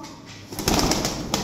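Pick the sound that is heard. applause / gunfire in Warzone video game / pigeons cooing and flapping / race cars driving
pigeons cooing and flapping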